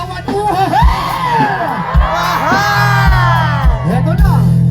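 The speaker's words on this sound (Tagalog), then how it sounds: "Isang hiyawan" A concert crowd at Barasti in Dubai shouts and whoops in excitement, with loud rising and falling yells over a thumping beat and music, close and continuous.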